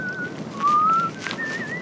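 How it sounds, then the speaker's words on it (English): A boy whistling a short, wavering tune alone, clear and close, a few sliding notes with soft breathy gaps between them. "A boy whistling in the dark"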